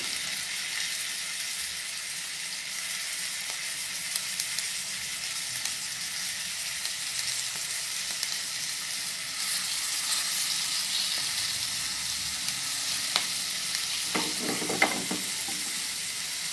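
Food frying in hot oil, a dense continuous crackle and sizzle, close and steady, with a few small clatters near the end as pieces go in.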